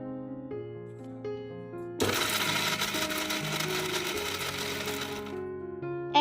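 A mixer grinder pulses raw mango and green chillies for a Bengali pickle: an abrupt, loud, dense whir of about three seconds that cuts off sharply, with soft music playing before, beneath and after it.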